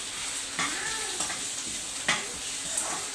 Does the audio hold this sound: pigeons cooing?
no